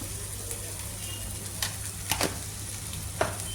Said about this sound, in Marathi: थोडं याला 5 मिनिट असंच परतून घ्यायचं, म्हणजे आपले मटार थोडेसे मऊ होतील